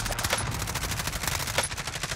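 Rapid automatic gunfire in Call of Duty's Haunting of Verdansk mode rattles in a fast, steady stream of shots, somewhat distant and moderately quiet, with no talking over it.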